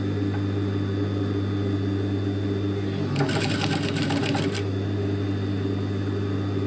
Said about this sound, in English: And we gently sew around this curve.